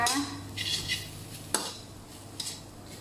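Fish filling for fried spring rolls is stirred in a pan over low heat. A utensil scrapes softly and clinks lightly against the metal, with a few sharper taps, quiet and close.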